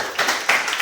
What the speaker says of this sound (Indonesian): Sekali lagi, aplaus untuk kalian.